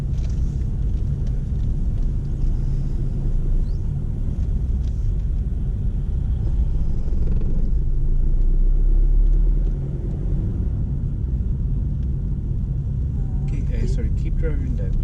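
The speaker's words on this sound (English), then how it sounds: "We're entering this car park as this is where I'm going to make Ada do the forward bay park maneuver" A car rolls into a car park during a driving lesson, with a steady low engine and road rumble throughout and a brief swell partway through.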